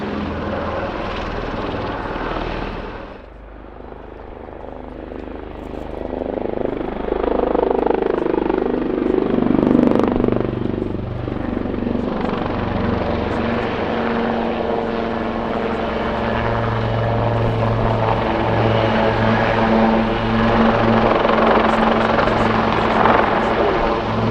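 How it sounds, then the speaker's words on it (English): A Royal Navy Wildcat HMA2 maritime attack helicopter flies a display at an airshow, its loud rotor and turbine roar sustained and building as it passes, steady and close, with no voices over it. "this is very much an attack helicopter, designated Wildcat 8MA2"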